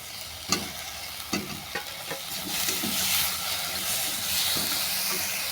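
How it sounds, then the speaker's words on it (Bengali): Fried elephant foot yam hitting a pan of sizzling spices, with a few sharp scraping stirs early on, then a steady loud frying hiss filling the rest, no voices. "কিছুক্ষণ মশলাটা কষিয়ে নেওয়ার পর দিয়ে দিলাম ভেজে রাখা ওল।"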